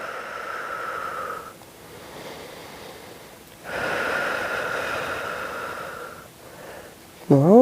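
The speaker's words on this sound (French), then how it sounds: "Inspire et expire." Audible breaths during a ten-minute muscle-strengthening workout, two long airy exhalations with a quieter inhale between them, close and fairly soft, ending in a short sharp sniff or gasp.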